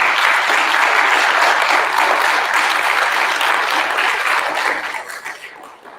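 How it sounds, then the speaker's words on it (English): School awards assembly crowd of fourth-grade students and families giving a loud, dense round of applause that holds steady and then tapers off toward the end. "A round of applause for your parents."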